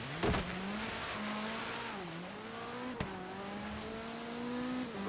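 A Subaru driven in Forza Horizon 3 on a stormy snowy mountain, its engine droning steadily and climbing through the gears with rising revs, after a brief clunk at the start and another around the middle.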